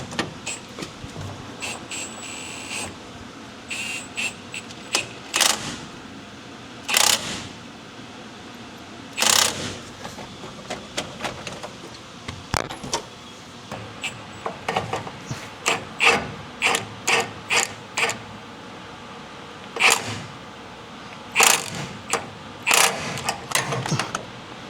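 A wrench tightens the drag link nut on a Ford F600 truck, heard close up as a series of irregular metallic ratcheting clicks and short bursts spread across the clip, with quiet gaps between them.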